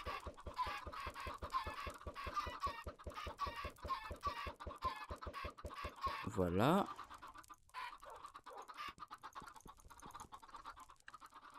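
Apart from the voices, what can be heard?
chickens clucking in the video game Minecraft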